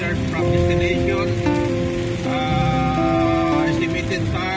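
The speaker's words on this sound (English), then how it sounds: "We are continuously driving under heavy rain." Heavy rain drums steadily on a car driving between Ottawa and Quebec, a dense wash under steady tonal hum from the cabin, loud and continuous.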